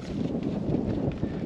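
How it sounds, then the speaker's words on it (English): Steady wind buffets the microphone with a low, rumbling roar, gusting unevenly throughout. "You can tell it's a little windy out here."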